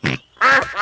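A few loud, close cartoon duck quacks from a children's animated show, nasal and buzzy, coming in quick succession with a brief pause between the first call and the rest.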